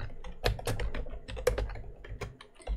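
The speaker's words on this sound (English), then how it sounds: "if I create a text box and start typing" A computer keyboard is typed on in a short run of soft, close keystrokes, several clicks spaced unevenly against a low steady background hum.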